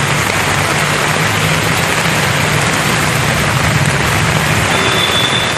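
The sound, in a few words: rain falling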